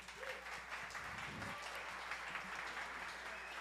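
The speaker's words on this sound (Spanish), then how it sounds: "un gran aplauso para ella" Faint audience applause at a JS and Big Data developer event in Medellín, a quiet, steady patter of clapping heard from a distance, with a brief low thump partway through.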